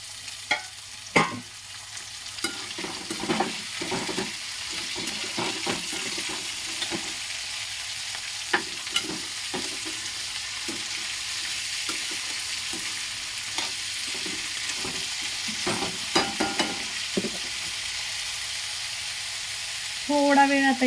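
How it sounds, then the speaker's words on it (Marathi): Papdi beans and potatoes frying in hot oil in a pan, a steady sizzle running throughout, broken by repeated scraping clinks of a spoon stirring the vegetables. "आता ही मी पापडी टाकून घेते याच्यामध्ये."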